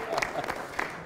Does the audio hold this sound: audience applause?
yes